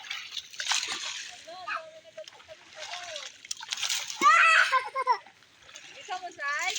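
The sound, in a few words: water splashing while rinsing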